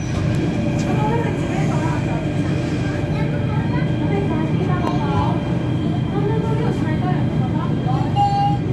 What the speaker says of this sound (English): Okay, apparently there is a train over there.